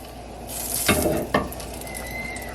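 Food sizzles in a pot as it is stirred, with tomatoes in the mix for ackee and saltfish seasoned rice, with two brief bursts of louder hissing and scraping over a steady background.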